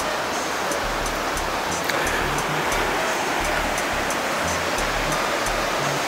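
A mountain stream at a trail crossing near Pamelia Lake on Mt. Jefferson rushes continuously, a steady broadband roar of flowing water close by, with no voices.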